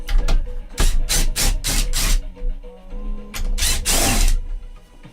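A DeWalt drill drives a screw in loud, repeated ratcheting bursts with short pauses between, a home workshop storage build in progress.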